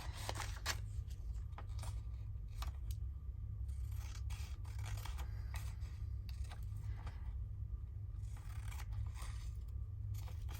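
Scissors cut paper craft toppers in short snipping bursts and pauses, with faint paper rustle over a low steady hum, close and quiet.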